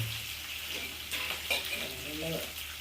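Onion and tempering spices fry in hot oil for a Nellore-style fish curry, a steady close sizzle with light stirring scrapes and a faint voice near the end.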